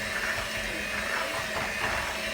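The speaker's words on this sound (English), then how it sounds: "now I'm getting ready to blend up the cream cheese, as you see, and the sour cream" Blender running steadily on cream cheese and sour cream in a home kitchen, a continuous loud whirring motor hum with no pauses or talk.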